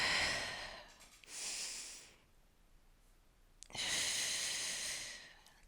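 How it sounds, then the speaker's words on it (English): Two long, breathy exhalations during a bodyweight Pilates exercise, each lasting close to a second, close to the mic with quiet gaps between them. "You're inhaling and exhaling as you move."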